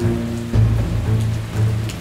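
Heavy rain falling in a steady, dense wash of noise with a low rumbling undertone, continuous and fairly loud throughout with no voices.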